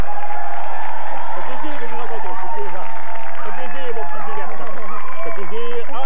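A studio audience applauds and cheers a guest introduced on a Québec comedy show, a steady wash of clapping with voices talking loudly over it throughout.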